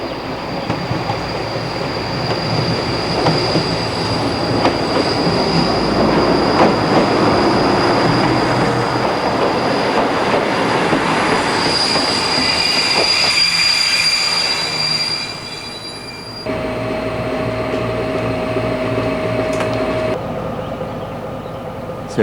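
A coupled set of SNCF X2700 single-engine diesel railcars, led by 2721, rolls loudly along the track near Vif station with rumbling wheels and piercing wheel squeal, then quiets briefly before clattering on.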